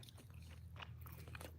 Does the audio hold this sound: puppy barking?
no